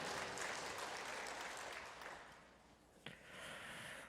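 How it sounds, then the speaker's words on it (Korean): A church congregation applauds at a New Year thanksgiving service, a dense, steady clapping that fades gently toward the end with one sharp knock near the close. "하나님 앞에 영광의 박수 올려드립니다"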